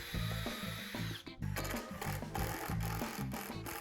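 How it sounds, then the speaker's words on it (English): A power drill drives 2-inch number 6 construction screws through 2x6 lumber cross pieces into a wooden tabletop, giving loud, close whirring bursts that stop and start in a steady rhythm with brief pauses between screws. "I simply drive 2-inch number 6 construction screws through each cross piece into the tabletop to fix it down in place"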